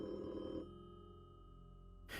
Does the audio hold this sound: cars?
no